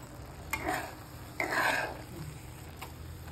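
Grated bottle gourd halwa cooks in a pan with a soft, low simmering sizzle, broken by two or three brief scraping stirs of a spoon, close and fairly quiet.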